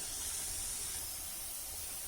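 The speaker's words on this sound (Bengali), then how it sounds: "ফুরুলিগুলোকে লাল লাল করে ভেজে নিতে হবে।" Palm fruit fritters deep-frying in hot oil give off a steady, even hiss that holds at a constant level for the whole stretch, with no voices.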